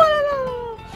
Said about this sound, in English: Hi, Lucky. Okay, stop barking,